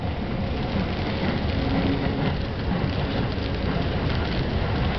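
Heavy rain falls in Tokyo during a storm, a dense continuous hiss of downpour with a low rumble beneath, steady and loud without talk.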